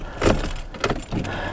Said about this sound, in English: Let's just turn the key on